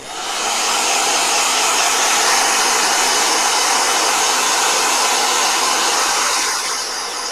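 A blow dryer runs continuously at close range, a loud steady whooshing roar with a faint motor whine, easing slightly at the end; no one speaks.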